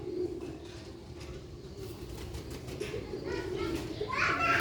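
Sialkoti pigeons coo softly in a loft, the low cooing steady beneath children's voices and chatter nearby, with a brighter bird call rising near the end.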